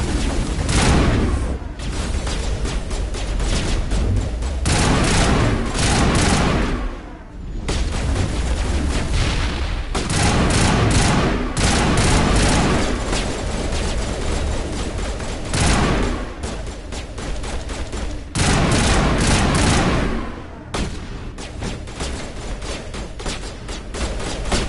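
Dense gunfire in a firefight in Mass Effect Legendary Edition, loud near continuous volleys of shots and booms for about twenty-five seconds, with only brief lulls between bursts.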